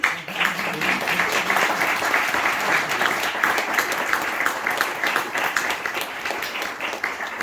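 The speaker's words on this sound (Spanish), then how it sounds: "Un aplauso." Sustained applause from an audience at a book presentation in a Gijón bookshop, steady dense clapping that holds at an even level throughout.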